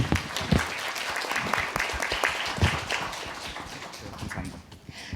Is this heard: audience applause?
yes